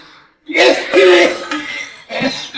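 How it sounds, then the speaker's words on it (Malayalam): A man gives several harsh, voiced hacking coughs up close in a Malayalam comedy sketch, acting out a relative's cough, with short pauses between bursts. "ഏകദേശം ഇതുപോലത്തെ ചുമയാണ് അമ്മാവൻ തുടങ്ങിയത്"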